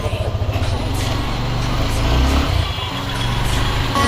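A car driven by a friend on the way to the book fair in Dhaka gives off a loud, close engine rumble and road noise that holds steady throughout, with no voices.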